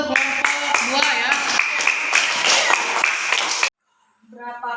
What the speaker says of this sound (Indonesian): tepuk tangan untuk kelompok 2 ya